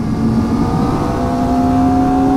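A Kawasaki Ninja ZX-4RR motorcycle pulls hard, its engine whine climbing steadily in pitch. The tone is loud, close and continuous throughout.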